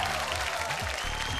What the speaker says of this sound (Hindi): जोरदार तालियां अभिषेक जी के लिए